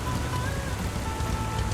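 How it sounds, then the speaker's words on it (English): Heavy rain pours steadily over a farm in Farming Simulator 25, a dense, even hiss of drops drumming on surfaces that holds constant throughout with no voices. "It is raining quite a bit."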